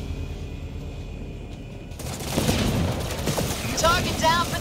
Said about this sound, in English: I'm receiving enemy fire